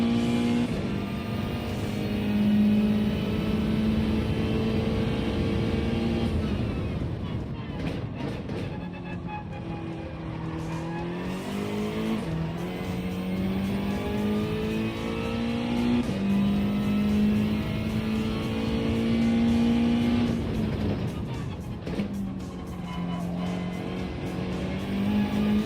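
Mazda race car in a racing video game, its engine droning continuously with repeated rev rises and drops through gear changes and corners, loud and close for the whole stretch, with no voices.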